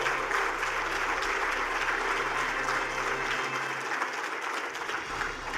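Applause from the audience after a panel session at a global investors' conference in Tamil Nadu, with a steady wash of clapping under a low, constant hall hum that thins slightly toward the end.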